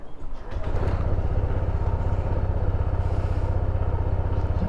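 A Honda Click 160 scooter engine starts and settles into a steady, fairly loud idle with a rapid, regular pulsing. The engine is close by and runs alone with no talk.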